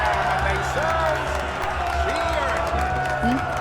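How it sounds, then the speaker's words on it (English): Crowd applause and cheering in the fantasy role-playing game Enderal, a steady wash of clapping that carries through the whole stretch with tonal game sounds layered on top. "And we have a applause, mesdames and messieurs"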